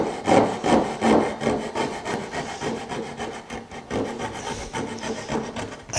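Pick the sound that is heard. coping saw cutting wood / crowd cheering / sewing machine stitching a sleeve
coping saw cutting wood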